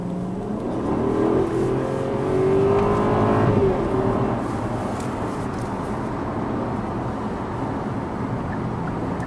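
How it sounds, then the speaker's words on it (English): A 2015 Hyundai Genesis 5.0 V8 with an 8-speed automatic drives steadily, its engine a continuous low drone that swells briefly as it pulls, then settles into an even cruise hum alone. "The Genesis 5-liter V8 is mated to an 8-speed automatic transmission, and it generates 420 horsepower."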